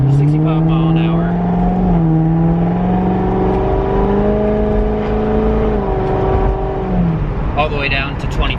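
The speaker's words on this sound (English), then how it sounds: "we're gonna go ahead, drive around in the city real quick, get some heat in them" A Corvette fitted with new Wilwood brake pads and rotors drives through city streets, its engine droning loud and close from inside the cabin and rising and falling in pitch as it shifts and accelerates.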